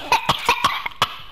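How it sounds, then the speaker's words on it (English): A five-year-old child coughs repeatedly, about six short harsh bursts in quick succession, close and clear with no talk. "I've been coughing a lot."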